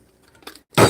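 A glass dish knocks sharply against something in a home kitchen, giving a brief, loud, near clink that borders on breaking, preceded by a few faint handling taps.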